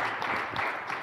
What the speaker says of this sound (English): Let's give a round of applause for John Stine, the Executive Director of th